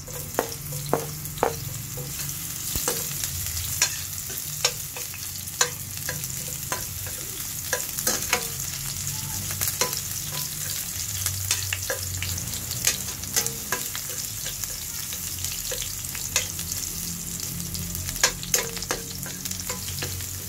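Onions fry for spicy pork ribs, with a continuous crackling sizzle and frequent sharp scrapes and taps of a utensil stirring in the pan, close and steady throughout with no talking.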